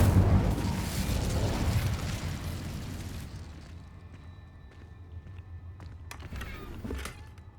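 A fire spell cast in Hogwarts Legacy bursts out loud and broad with a deep rumbling roar, then fades over several seconds into faint crackles and scattered small pops.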